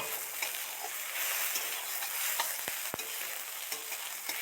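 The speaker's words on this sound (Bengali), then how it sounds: "গরম জল ফুটিয়ে রেখেছিলাম সেই গরম জলটা দিয়ে দেব" Hot water poured into a pan of frying mutton for a curry gives a steady, faint sizzle and hiss with a few sharp clinks, heard close and without speech.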